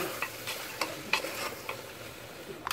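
A spoon stirs mutton curry seasoned with chili powder and salt in a pan, giving a series of soft scraping strokes over a faint sizzle, close and fairly quiet, with no talk.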